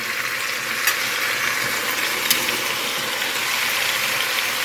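Beef short ribs sizzle and fry as they brown in a pot, a steady, moderately loud crackling hiss with a couple of faint clinks and no speech.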